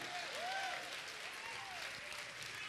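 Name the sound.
congregation applauding in church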